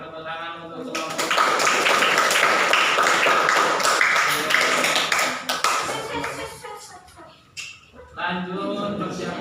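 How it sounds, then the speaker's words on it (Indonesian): A classroom group claps for a presenting team of teachers during a coaching session, steady dense applause for several seconds that thins and fades near the end before a short burst resumes. "silakan tepuk tangan untuk kelompok"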